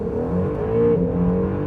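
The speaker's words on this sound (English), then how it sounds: "I'll keep my left foot on the brake, floor the throttle, release the brake," 2020 Acura sports car launching hard in track mode, with a steady, droning engine note that climbs slightly in pitch as the car accelerates, loud and close, with no talk over it.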